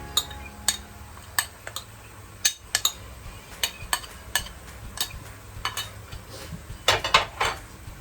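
Egg noodles with mixed seafood stirred in a pan, with a utensil clinking and scraping against the metal in irregular taps over a low background hiss, and no talking.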